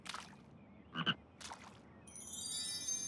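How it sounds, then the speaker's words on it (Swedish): A green hopping frog croaks in a few short, distinct bursts near the mic, followed by a bright, twinkly musical shimmer in a children's cartoon scene. "En grön hoppig groda."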